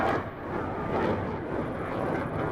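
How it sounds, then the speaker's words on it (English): Steady, loud jet engine roar of a plane in the Minecraft Superb Warfare mod, a continuous broadband rush that holds throughout with slight swells and no talk over it. "They all have the same jet engine sounds though."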